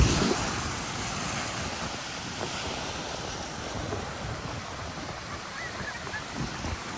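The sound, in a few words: ocean waves at a beach in Guam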